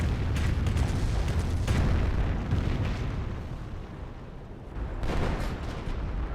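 Artillery fire in the Company of Heroes war game: heavy, rumbling booms and blasts roll continuously, loudest early on, dipping in the middle, then swelling again near the end, with no talking.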